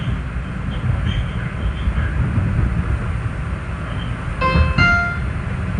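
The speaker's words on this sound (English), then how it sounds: "I will ride out of here what will be the very second train into Philadelphia that stops at Franklin" A PATCO commuter train pulls into Franklin Square station in Philadelphia, a steady, loud rolling rumble filling the platform, with a brief high metallic squeal or chime rising near the end.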